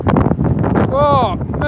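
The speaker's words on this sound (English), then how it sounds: "here we go, back in the wind." Wind buffets the microphone outdoors during a live dog walk, a loud rumbling gust under a person talking.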